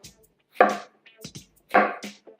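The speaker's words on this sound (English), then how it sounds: "all we want to do is give it a really, really rough chop" Knife roughly chopping tomatoes on a cutting board, a handful of irregular thuds spaced about a second apart, close and fairly loud with no talk.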